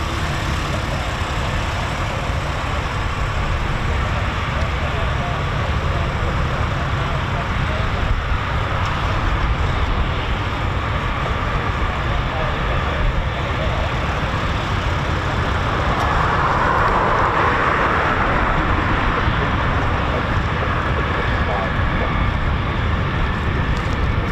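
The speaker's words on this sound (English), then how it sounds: "Sounds like an engine run, to be honest, this one." A Eurofighter Typhoon FGR4 jet engine run at RAF Coningsby in cold, wet weather comes through as a distant, continuous roar and rumble that stays level throughout.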